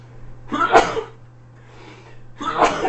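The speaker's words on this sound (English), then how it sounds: "Because I needed to sneeze like really fucking bad" Two sharp, explosive sneezes about two seconds apart, each preceded by a breathy intake, close and fairly loud over a steady low hum.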